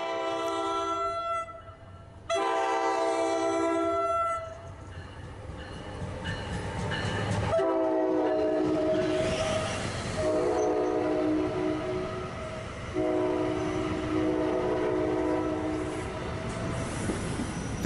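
A New Jersey Transit passenger train rolls past on the Raritan Valley line, its horn blaring in long sustained blasts over the steady rumble and clatter of wheels, with occasional squeal, loud and close.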